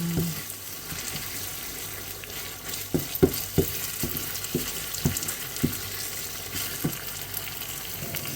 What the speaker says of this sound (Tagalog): haluin nyo lang ng haluin hanggang sa maganito yung kanyang texture